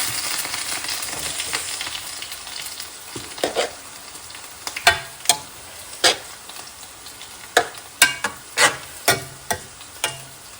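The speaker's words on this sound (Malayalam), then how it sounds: "നമ്മുടെ കോഴിക്കറി ഇവിടെ ഇരുന്ന് റെഡിയാകുന്നുണ്ട്. ചിക്കനെല്ലാം വെന്ത് വരുന്നുണ്ട്" A pot of marinated chicken curry cooks with a steady sizzle, broken by sharp, close clacks and scrapes from a spoon, irregular at first and more frequent later, with no talk.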